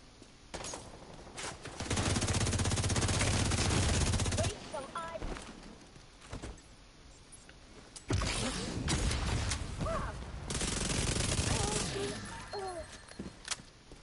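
Automatic gunfire in The Division 2 video game: loud sustained bursts of rapid shots, two long volleys with quieter gaps between, under and around a voice talking.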